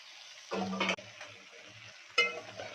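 Okra pieces are tipped into a pan of softened tomato curry and stirred, making two loud bursts of sizzling and scraping with a quieter bubbling simmer between them.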